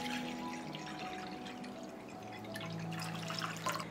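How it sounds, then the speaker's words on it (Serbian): About a litre of warm water poured steadily into a bowl at home, making a soft, continuous splashing trickle that holds at a fairly even level for the whole stretch, with no talking. "U činiju sipam 1 litar tople vode."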